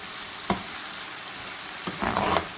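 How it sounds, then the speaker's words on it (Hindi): Chili pepper chicken manchurian sautéing in a pan, with a soft steady sizzle, a couple of clinks from stirring and a brief louder burst of frying near the end. "इसको बस थोड़ी देर तक हमने सोटे करना है, मिक्स करना है"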